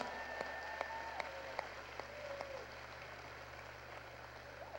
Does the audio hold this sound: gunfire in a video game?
no